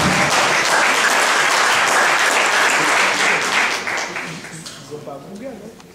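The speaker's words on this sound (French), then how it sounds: "Applaudissez, s'il vous plaît." A quiz-show audience applauds loudly and densely, the clapping holding steady before tapering off toward the end as a voice begins talking over it.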